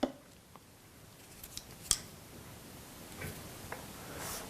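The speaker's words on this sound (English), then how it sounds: "So you can cut off the green and the white." Scissors snipping through thin green and white cables during assembly of a bamboo mini arcade machine, a few faint, sparse clicks and one sharper snip in a quiet room.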